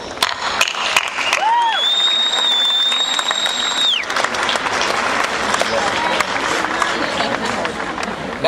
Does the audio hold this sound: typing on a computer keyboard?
no